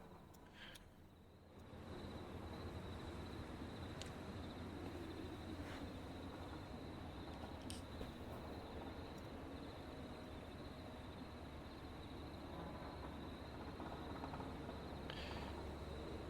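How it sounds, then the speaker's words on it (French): Crickets chirp in a steady, high-pitched drone through a quiet night setting, with a faint continuous background hum and a few soft clicks and knocks nearby. "Un petit bruit là, on entend des grillons, ça grillonne."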